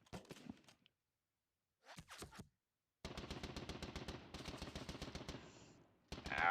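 Rapid volleys of simulated gunfire from a France '14 hex wargame set at the Battle of Dinant, loud and sustained for several seconds after a few brief earlier bursts, ending in a sharp blast.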